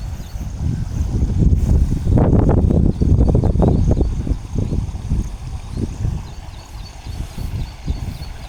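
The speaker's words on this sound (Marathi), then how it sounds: "पाण्याचा आवाज तुम्हाला येत असेल" A small stream in green countryside, heard as a soft continuous burble mixed with wind buffeting the microphone, louder in the first few seconds and then fading to gentler gurgling.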